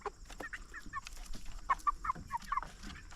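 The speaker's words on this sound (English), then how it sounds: "these are Swedish Flower chicks that we got from a farm in Vermont" Swedish Flower chicks from a Vermont farm making soft, close clucks and short peeps in an irregular scattered run, fairly quiet with no speech.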